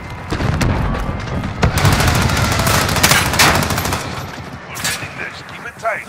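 Automatic gunfire in Call of Duty: Modern Warfare, with loud, dense bursts of rapid shots and heavier booms that rattle on for several seconds before thinning into scattered cracks.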